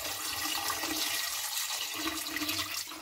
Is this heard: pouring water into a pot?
yes